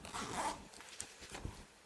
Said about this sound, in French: on a notre petite fermeture éclair pour pouvoir, par exemple, y mettre de l'argent